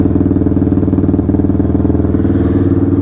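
A motorcycle fitted with a Rossier aftermarket exhaust idles steadily up close, a loud, even thrum with a slight rhythmic pulse throughout, and no talking over it.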